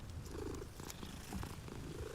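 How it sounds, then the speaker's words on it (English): A cat purrs while being petted in the video game Hogwarts Legacy, a soft, close, continuous rhythmic purr with no voices over it. "I do like petting the cats."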